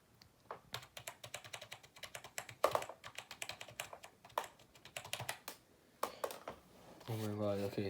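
A cheap $15 mechanical keyboard from Wish clacks under rapid, close typing in uneven bursts of sharp key strikes, and a voice comes in briefly at the end.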